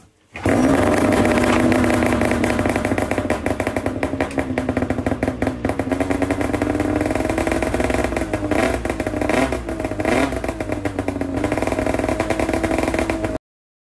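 Snowmobile engine idling loudly and close, a continuous raspy two-stroke drone with rapid throbbing pulses and small revs throughout, then stopping abruptly at the end.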